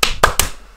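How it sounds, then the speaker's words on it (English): Three quick hand claps follow one another in under half a second. They sound close and fairly sharp, with a short fade after the last one and no voices over them. "but clap your hands."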